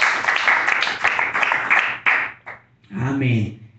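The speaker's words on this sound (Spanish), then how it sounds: "Denle un fuerte aplauso al Señor Jesús en esta hora." A church congregation at a Pentecostal service applauds loudly for nearly three seconds, dense clapping that breaks off abruptly, followed by a voice speaking up close.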